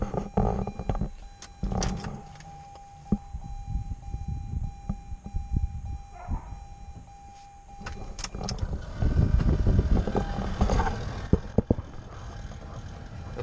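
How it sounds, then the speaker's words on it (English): A Honda CRX blower motor strains on a below-freezing cold start, giving a steady whining tone with scattered clicks and knocks, then a louder rumbling surge near the end. "The blower motor's not too happy."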